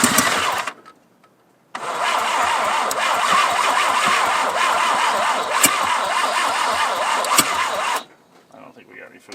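An 80-year-old abandoned Jeep engine, fed by gravity fuel, cranks and catches, then runs loud and close for several seconds before cutting out, with brief cranking beforehand.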